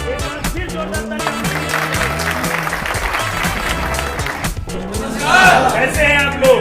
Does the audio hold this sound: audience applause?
yes